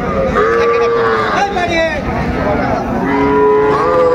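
Young bull calves lowing at a cattle market, several drawn-out moos overlapping and following one another at close range against a busy crowd background.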